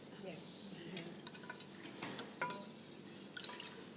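Water poured into a cooking pot while preparing a Bengali dish, faint trickling and splashing with light clinks of metal, quiet and close.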